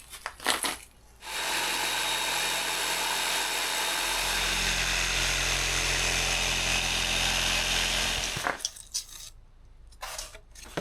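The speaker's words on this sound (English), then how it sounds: "I tested the jigsaw on a scrap and it worked quite well, so hopefully this is going to work all right." A jigsaw cuts a port for a heater duct in a camper: a loud, continuous buzzing saw run of about seven seconds, bracketed by brief handling clatter and a few knocks before and after.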